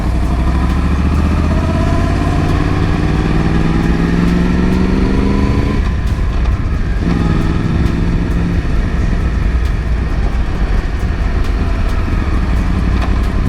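A Yamaha YZF R1 1000cc superbike engine roars continuously and loudly up close, rising through revs in sweeping climbs, dipping briefly, then pulling hard again.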